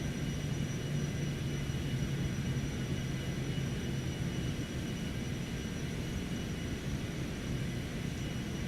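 Cessna Citation X business jet climbing out after takeoff in a flight simulator, a steady low engine rumble with a faint even whine held throughout, no talking.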